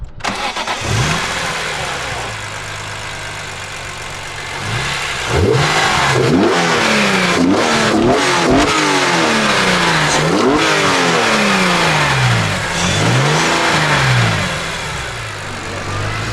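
A 400 wheel horsepower BMW M3 Touring E46 engine revs repeatedly and loudly up close, rising and falling in sharp sweeps. People talk faintly underneath.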